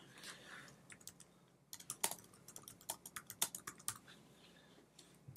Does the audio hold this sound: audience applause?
no